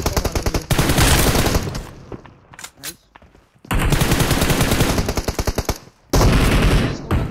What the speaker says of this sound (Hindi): पीछे से भी हम पे फायर हो रहा था